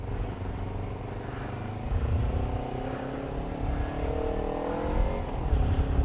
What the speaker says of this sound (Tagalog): And traffic, Paranaque.